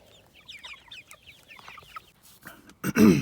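Farm chickens cluck in a short series of soft, close calls, ending with a louder squawk from one bird.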